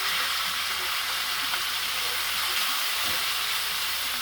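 Steak frying in a pan with oil, garlic butter and mixed herbs over medium heat, giving a steady, loud, unbroken sizzle that carries evenly from start to finish.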